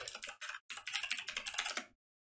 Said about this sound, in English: then type in my new password